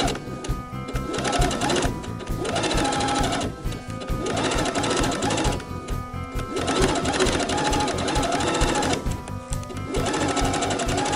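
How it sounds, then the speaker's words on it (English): A sewing machine stitches steadily in bursts of rapid mechanical chatter, with brief pauses between runs, close and fairly loud. "let's go to the sewing machine"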